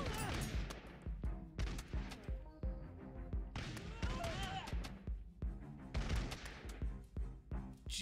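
Rapid volleys of musket gunfire crack from a video game battle, sharp repeated bursts clustering in waves over a continuous backdrop of game noise and shouting.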